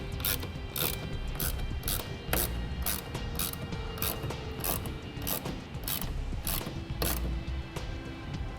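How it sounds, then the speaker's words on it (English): A 7/16 ratchet wrench or socket tightening the clamp bolt on a Pace Edwards Switchblade retractable hard tonneau cover on a 2016 pickup: a close, rapid run of sharp ratcheting clicks in quick bursts, with no speech. "And we'll use that same 7/16 wrench or socket."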